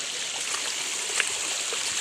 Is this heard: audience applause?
no